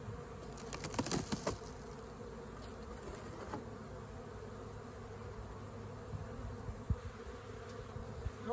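Honey bees buzz in a steady, faint drone around hive frames, with a few louder close passes near the start and scattered light knocks.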